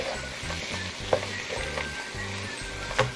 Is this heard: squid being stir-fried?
yes